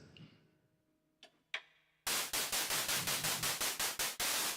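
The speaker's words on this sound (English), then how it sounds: "I just unplugged one thing and this thing went back to a noise generator" A synthesizer's noise patch comes back on as a loud burst of broadband static. It pulses in a fast, regular rhythm and follows a few quiet clicks.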